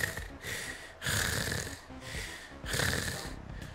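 A character in the video game Bomb Rush CyberFunk breathes heavily in slow, raspy, wheezing pulses, about three long inhale-exhale cycles at close range with no talking.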